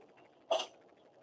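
A single short, sharp sneeze bursts out over quiet background murmur, fading quickly.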